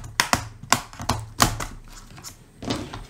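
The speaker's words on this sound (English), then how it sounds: "we're gonna take our flat metal pry tool. We're gonna go at the bottom and gently pry it up." A flat metal pry tool working under the keyboard of a Lenovo Chromebook Yoga laptop, giving a handful of sharp, close plastic clicks and taps spaced irregularly, then softer scraping.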